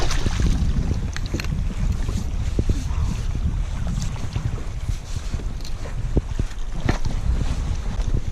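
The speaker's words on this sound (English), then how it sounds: "As you can tell, it's really windy out on the main water." Strong wind buffets the microphone on open water, a constant loud rushing roar with irregular gusty thumps and faint splashing underneath.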